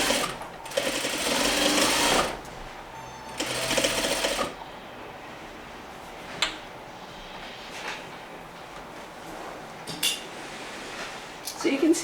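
Sewing machine stitching a Parsons chair slip cover: two close, steady whirring bursts of a couple of seconds each, then quiet handling with small clinks of pins and metal.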